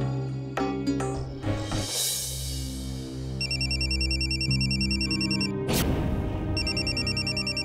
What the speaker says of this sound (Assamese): ইমাৰ্জেঞ্চি ফোন নধৰিলে নহয়